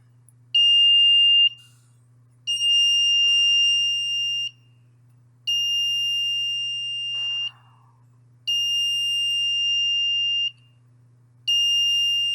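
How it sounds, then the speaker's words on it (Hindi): Electronic buzzer driven by an Arduino board, switching on and off in a regular pattern of about two-second shrill tones separated by one-second gaps, with a faint low hum underneath and no talk. "बज़र ऑन ऑफ करना"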